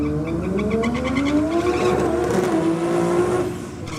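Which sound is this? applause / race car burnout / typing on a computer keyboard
race car burnout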